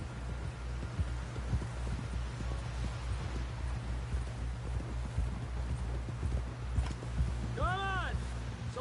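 Horse hooves clip-clopping in Red Dead Redemption 2, a steady rhythmic trot of close, regular beats over a low ambient rumble, with a brief whinny-like tonal sound near the end.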